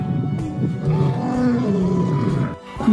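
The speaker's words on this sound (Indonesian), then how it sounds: "di sini ada seekor singa." A lion roars in repeated deep, rumbling bursts, loud and close, with a low growl filling most of the moment before a brief pause and a final swell.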